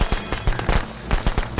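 Firecrackers pop in the video game Friday the 13th, a rapid irregular string of sharp cracks and bangs over about two seconds, loud and close.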